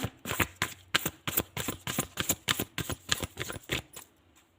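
Tarot cards being shuffled and drawn by hand: a quick, steady run of crisp, soft flicks and taps, close and quiet, slowing near the end.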